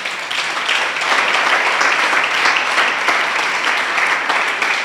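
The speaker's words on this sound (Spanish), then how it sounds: "Denle un aplauso al Señor." A church congregation breaks into steady, loud applause, many hands clapping evenly throughout with little talk above it.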